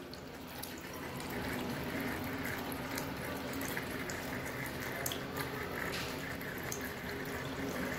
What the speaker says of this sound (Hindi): अब इसको लग रहा है कहीं पानी की आवाज आ रही है